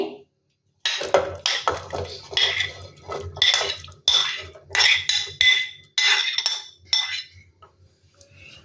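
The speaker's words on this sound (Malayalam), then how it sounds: "അപ്പോഴമ്മ അത് കുക്കറിലോട്ട് പകരുകയാണേ." Chinese potatoes (koorka) tipped into a metal pressure cooker in a Kerala kitchen, a run of clinking, scraping metallic clatters in uneven bursts with short pauses, close and fairly loud.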